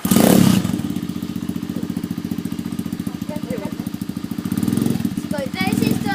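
A four-stroke dirt bike engine running close by with a steady, rapid putter and brief revs at the start and end, with voices talking over it.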